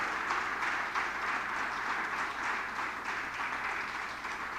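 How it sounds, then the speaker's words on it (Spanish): A church congregation at a Sunday celebration service applauds. Many hands clap together in a broad, steady roar that fills the room for several seconds, with no voices standing out. "dale un aplauso a Dios"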